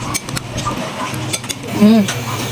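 Avocado salad being mixed in a bowl, with utensils clinking and scraping against the dish in short irregular bursts, close up, with a voice speaking briefly over the stirring.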